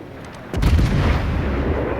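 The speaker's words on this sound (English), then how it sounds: "Just lob a couple of rounds, never know." The German cruiser Yorck's naval guns fire a salvo in the World of Warships video game, a single deep, booming blast that rolls into a sustained rumbling tail.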